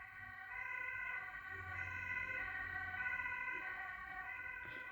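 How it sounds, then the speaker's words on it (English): An ambulance siren wails steadily throughout, a sustained, fairly faint tone heard alone with no talk over it. "I think that was an ambulance."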